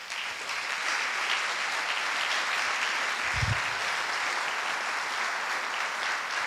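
Applause from a church congregation, a steady dense wash of clapping held at an even level throughout, with a single low thump near the middle.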